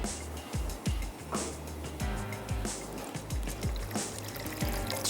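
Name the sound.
water poured into kofta curry gravy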